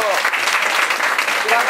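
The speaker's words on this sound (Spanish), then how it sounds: "Le brindamos un fuerte aplauso." Brief burst of audience applause at a public event, a steady crackle of many hands clapping for under two seconds, with voices faintly mixed in.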